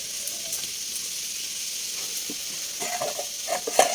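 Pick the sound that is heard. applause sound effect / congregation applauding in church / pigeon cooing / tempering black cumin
tempering black cumin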